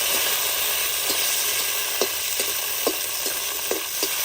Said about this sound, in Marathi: तेल तापलेलं आहे तेलावर आपण मिरची भाजून घ्यायची